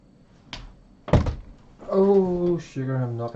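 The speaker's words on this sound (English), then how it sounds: "I'm knocking everything over." Two sharp thunks of objects knocking over on a table, close and loud, followed by a person speaking.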